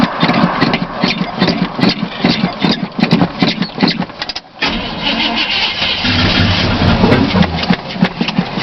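Car engine cold start: a loud, close starter cranking in an uneven churning rhythm, a brief dip, then the engine catches into a rough, steady running drone.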